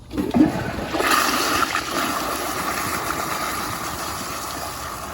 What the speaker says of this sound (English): here's a flush